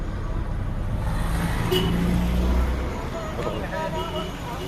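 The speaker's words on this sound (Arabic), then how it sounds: "العربيه دايره بالصلاه على النبي عليها اهي" An idling Opel Astra engine, whose coolant level is dropping, hums steadily in the background while people talk over it nearby.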